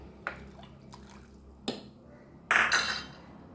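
A couple of light knocks and drips, then a short splash of hot water poured into a pot of dal up close, settling into a soft trickle.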